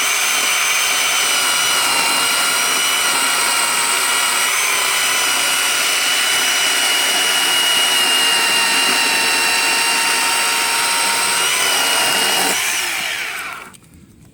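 Bauer 20V cordless electric chainsaw cutting through wood, a loud, steady high-pitched whine under load, held near full speed before winding down sharply at the end, with no talking.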